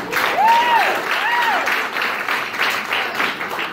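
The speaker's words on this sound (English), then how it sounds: "Let's give her another round of applause." Guests at a speech give a warm, steady round of applause, a dense, even wash of clapping with a couple of whoops or cheers near the start.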